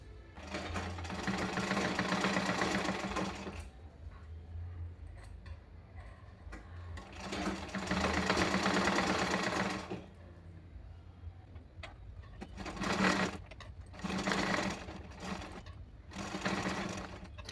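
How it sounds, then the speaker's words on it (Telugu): A sewing machine stitches the back-neck tie strings of a blouse, running in several loud bursts of a few seconds each with brief quieter pauses between them. "ఇప్పుడు కుట్టుకుందాం దీన్ని"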